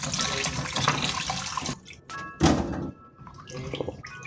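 A kilo of chicken feet is washed under a running kitchen tap, water splashing and gurgling into a sink with a few thunks and short pauses, close and moderately loud.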